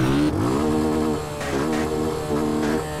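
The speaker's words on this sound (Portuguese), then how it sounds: "Até mudou o barulho do escapamento, mano." A modified 250 motorcycle in GTA San Andreas revs its exhaust in loud, close bursts, the engine pitch repeatedly rising and falling with a buzzy, racing tone.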